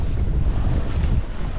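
Steady wind and surging waves around a sailboat moving across Lake Ontario, a dense, loud wash of water and air with no voices.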